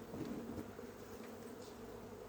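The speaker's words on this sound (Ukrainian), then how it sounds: "Тут у нас є ще трішки бджіл залишилось." Bees hum around frames lifted from a beehive, a soft, continuous low drone with faint pitch wavering, quiet and steady throughout.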